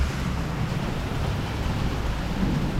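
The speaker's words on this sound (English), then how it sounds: "Oh, okay, so now it's just rain. The hail stopped." Rain falling steadily just after a hailstorm, a dense broadband wash of noise with no distinct drops, continuous and even for a few seconds with no talking.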